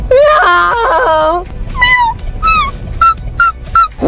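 A person imitates a cat meowing to be let into the house, giving several drawn-out, wavering high meows in a close voice. The first cries are long and loud, followed by shorter, sharper ones with brief pauses between them.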